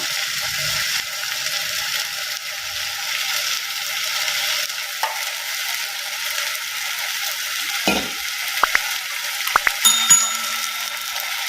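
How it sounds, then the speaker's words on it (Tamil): Mixed vegetables sautéing in a pan for a Tirunelveli-style kuzhambu give a steady, even sizzle, with a few clicks and spoon scrapes near the end and no voices. "காய்கறி ஓரளவுக்கு வதங்கிட்டு இருக்குங்க"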